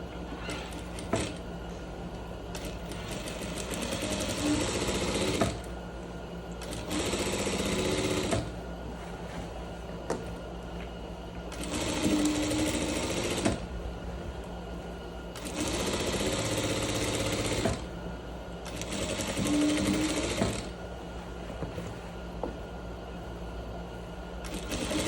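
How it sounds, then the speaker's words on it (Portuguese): Sewing machine stitching a seam on pleated trousers, running in repeated loud bursts of several seconds each with brief pauses between, steady mechanical whir close by. "vou passar uma outra costura, um pé de máquina abaixo dessa"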